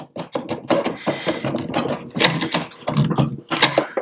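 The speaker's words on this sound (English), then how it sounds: "it's going to clip right into the front of the mower" Firm plastic clicking and ratcheting as a part is pressed and snapped into the front of a Luba robotic lawn mower during assembly, with a series of close, sharp mechanical clicks.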